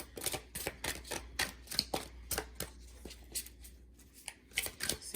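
Tarot cards shuffled and drawn, giving a run of crisp, close riffling and snapping bursts in an uneven rhythm, quiet overall with no talking.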